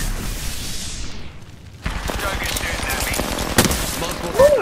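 Gunfire in the Apex Legends battle royale game, a dense rattle of automatic shots and impacts under a busy game soundscape, growing louder after a brief lull, with sharp bursts near the end.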